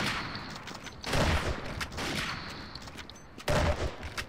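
Gunfire in the Zombie Master PC online shooter game, loud repeated bursts of shots with dense fusillade-like clusters and a continuous noisy battle backdrop.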